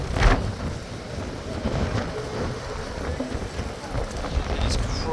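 Strong wind roars around an outdoor street with a blustery, continuous rumble and a sharp gust at the start, loud and close against the microphone.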